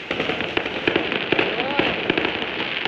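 Firecrackers go off during last-day Chinese New Year celebrations, a rapid scatter of sharp cracks and pops close by, with voices faintly mixed in.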